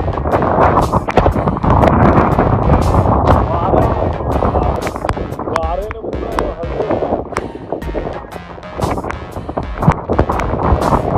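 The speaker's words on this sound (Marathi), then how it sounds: "वारा पण कंटिन्यू पाऊस कंटिन्यू लागतोय" Steady wind roars and buffets the microphone in a constant broadband rush amid continuous rain in the hills of Lonavala, with people talking underneath.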